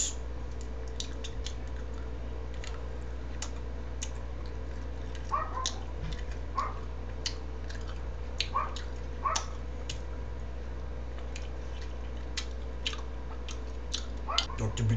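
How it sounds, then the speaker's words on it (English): Gum being chewed in a comedy sketch, repeated small wet clicks and smacks running steadily under a faint background hum, with occasional sharper bites standing out. "Would you please stop the chewing?"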